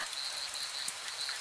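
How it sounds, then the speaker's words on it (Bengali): Rain falling steadily, a soft even hiss of drops on surfaces, faint and continuous with no voices. "বৃষ্টি বাদল আরম্ভ হয়ে গেল।"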